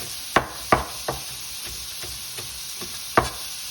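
Beef frying in a pan, with several sharp knocks and clatters early on that die back to a low steady sizzle, with no talking.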